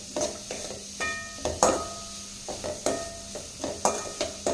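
Grated carrot being sautéed lightly in a pan for a street-style pea sundal snack, with repeated stirring scrapes and soft sizzling in an uneven rhythm, close and fairly quiet with no talking.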